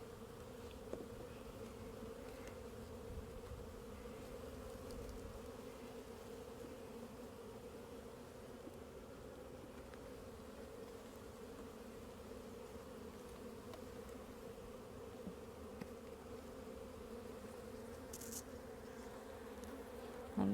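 Honeybees droning steadily from an open hive during an April inspection of an old frame and a pollen-filled queen box, a continuous close, even buzz with no talking.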